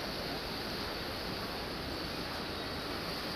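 Ganga river water rushing below a bridge on the road to Kedarnath, a steady, dense wash of flowing water that holds at an even level throughout with no voices over it.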